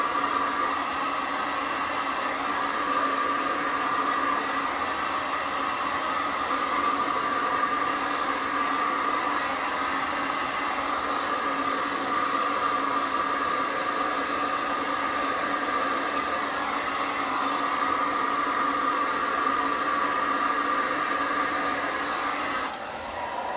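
A handheld dryer blowing steadily on wet paint on a wooden surface, a constant close whooshing whir with a faint motor whine, running alone without pause before cutting off at the end.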